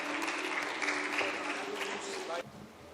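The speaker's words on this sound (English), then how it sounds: "Let's welcome him with a round of applause." Conference audience applauding to welcome a speaker at a dentistry and orthodontics session, a full round of clapping that cuts off sharply near the end, leaving quieter room sound and a voice.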